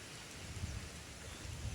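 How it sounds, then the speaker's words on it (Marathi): Steady rain falls continuously at a low, even level, a soft broadband hiss with faint low rumbling and no voices. "आता ही पाऊस असा चालू राहिला तर काय करायचं"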